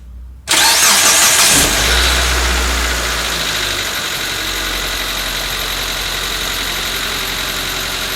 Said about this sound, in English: So now we'll just start the car to make sure the oil gets into the oil filter itself.